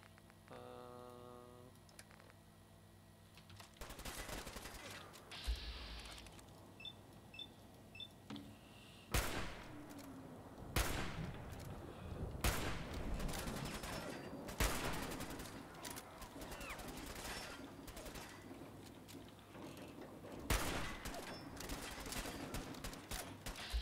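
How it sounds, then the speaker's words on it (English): Hunting rifle gunfire in a video game, with several loud sharp shots spaced irregularly over a steady bed of game background noise. "Oh, hunting rifle."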